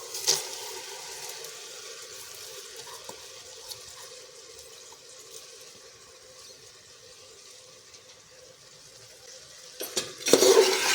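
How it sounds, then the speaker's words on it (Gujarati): Washed lentils and rice are added to a pan for vegetable masala khichdi and stirred, a soft scraping and faint sizzle holding steady, then sharper clatter of utensil against pan near the end. "તો હવે આપણે ધોયેલા આપણે દાળ ચોખા ઉમેરી દઈશું"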